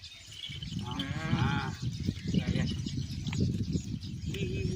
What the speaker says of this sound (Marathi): ती अशी बकरी असते ती आपला बकरा आहे